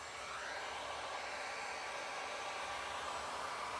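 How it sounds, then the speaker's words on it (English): A heat gun running steadily near the microphone, a continuous airy blowing hiss with no change in pitch or level, no talking. "I'm gonna go ahead and turn on my heat gun so you guys excuse the noise."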